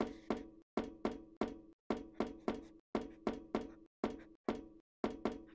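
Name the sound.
bonk stick hitting someone in a video game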